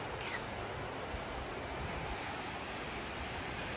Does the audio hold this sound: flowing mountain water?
yes